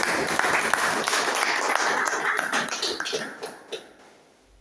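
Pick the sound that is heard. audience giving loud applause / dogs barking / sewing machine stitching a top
audience giving loud applause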